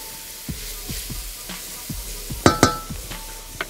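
Cabbage stir-fried in a pan, a utensil scraping and tossing it with repeated knocks and clinks over a soft sizzle, close and uneven, with no talk.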